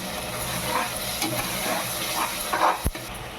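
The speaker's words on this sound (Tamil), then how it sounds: "இந்த மசாலாலாம் போட்டு நல்லா இது நம்ம வதக்கணும்" Raw ground masala sautés in oil with onion and tomato over high flame, a continuous close sizzle with light stirring and a sharp scrape near the end.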